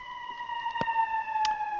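A steady electronic siren wails in a video game, holding a sustained tone throughout with a couple of brief clicks over it.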